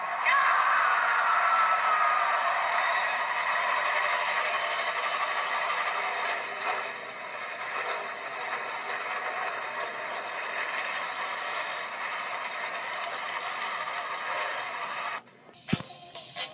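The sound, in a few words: NASCAR stock car engines starting and idling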